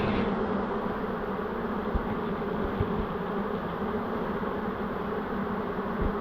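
A honey bee swarm being removed from a bridal boutique building hums in a steady, dense, close buzz as the bees fan, with a few faint knocks underneath.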